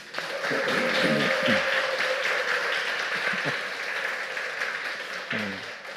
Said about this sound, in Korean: 격려의 박수를 한번.